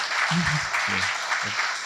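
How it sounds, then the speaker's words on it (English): Audience applause at a ThinkFest book launch: a fairly soft, even patter of clapping across the room, with a few voices briefly surfacing beneath it. "A Lahori round of applause."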